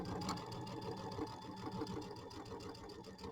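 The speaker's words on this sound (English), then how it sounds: "Since I'm doing it with the sewing machine, I'm doing this on the back." Sewing machine stitching quilt binding on the back of a small seasonal mini quilt, a steady, close, continuous whirring hum with rapid regular needle pulses throughout.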